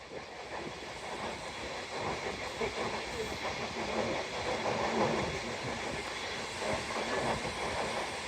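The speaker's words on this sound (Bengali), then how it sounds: "ট্রেনটি একেবারে ধীর গতিতে নিমতলা রেল স্টেশন অতিক্রম করার পারমিশন দেওয়া হয়েছে" The Benapole-bound Rupsha Bangla Express rolls slowly through Nimtola railway station on the Padma Bridge rail line, giving a steady, fairly loud rumble with hiss and soft clickety-clack of wheels over the joints.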